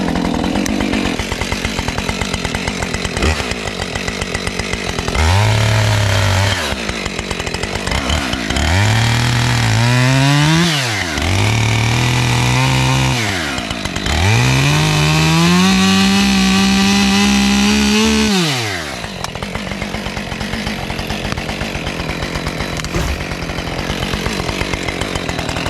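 A chainsaw cuts down small trees in woodland, revving up in several loud bursts that rise and fall between steadier idling, close by and without talk.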